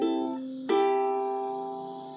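Ukulele fingerpicked pattern for a song, plucking strings 4, 3, 2 and 1 in turn, then 4, 2 and 1 together, ringing out close and clear with a fresh pluck midway and a long sustain, no talking.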